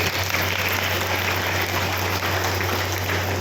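Dense, loud applause from a seminar audience fills the hall, steady and sustained with a low electrical hum beneath and no voices.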